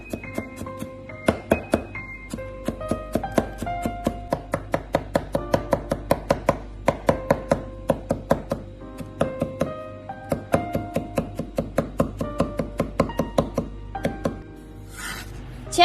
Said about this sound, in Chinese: 将大蒜切成薄片， 切好之后再改刀切成蒜末。